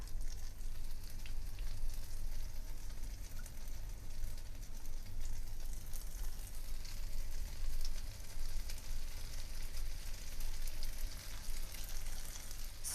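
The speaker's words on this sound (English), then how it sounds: "we're going to fry them into the butter" Bread sticks for cinnamon sugar French toast fry in butter in a pan, a steady, even sizzle with fine crackle that runs without a break and without any voices.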